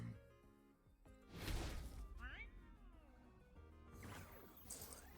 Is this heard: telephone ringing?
no